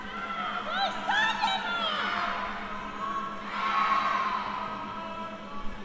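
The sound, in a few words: players cheering each other on at a frisbee match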